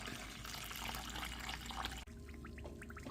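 Lukewarm water is poured into a bowl while making vanilla yogurt, a close splashing, gurgling stream that stops abruptly, followed by a few faint drips and trickles.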